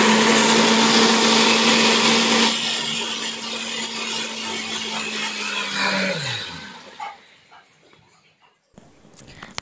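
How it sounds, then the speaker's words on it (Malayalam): A kitchen mixer grinder whirs loudly, blending cooked vegetables into a smooth paste for baby food. The motor's steady high whine drops in pitch as it winds down and stops, leaving faint handling noises. "അപ്പോൾ ഇനി ഇത് നമുക്ക് മിക്സിയിലൊന്ന് അടിച്ചെടുക്കാം."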